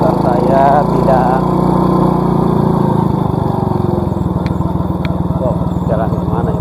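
A motorcycle engine chugs close and steady while riding a wet, puddled road after rain, settling from a busier rumble into an even idle-like putter, with someone talking over it.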